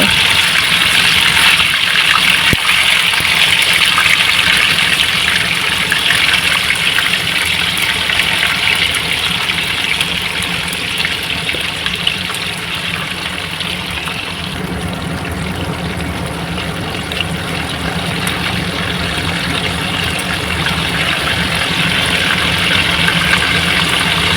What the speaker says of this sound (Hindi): अभी फिश ग्रेवी के लिए फिश करी के लिए फिश ग्रेवी जो है अभी बॉईल हो रहा है।